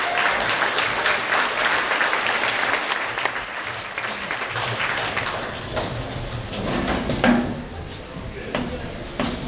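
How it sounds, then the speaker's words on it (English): Concert audience applauding the featured performers at a school Christmas concert, a dense, steady clatter of clapping that stays loud throughout with a slight swell near the end. "Let's give them a big round of applause right now."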